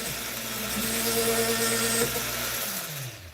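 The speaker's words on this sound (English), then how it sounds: "what I do is I just drill around the plastic." A small power drill bores through plastic around a metal rivet on a toy-scale Ford Ranchero model, a steady whirring hum with a slight pitch drop as it winds down near the end, close and alone.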